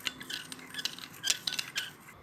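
A spoon briskly beating coffee, sugar and a little water in a bowl for dalgona coffee, giving rapid, irregular clinks and scrapes of metal on the bowl, close and fairly clear with no talking.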